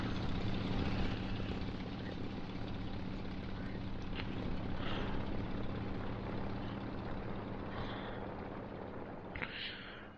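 A loud, steady aircraft engine drone from the War Thunder video game, I-16 Type 28, with a low rotor-like hum runs throughout, nearly unchanging, with a few faint higher chirps near the end.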